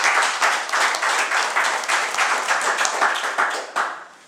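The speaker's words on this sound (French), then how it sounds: "Donc ça s'applaudit ça." An audience bursts into loud, sustained applause following a speech by an ambassador, with dense clapping that pulses slightly before tapering off near the end.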